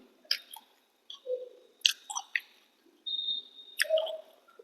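Chewing on fish roe fritters with fish curry and rice, close-up wet mouth and bite sounds in separate bursts with short quiet gaps between them.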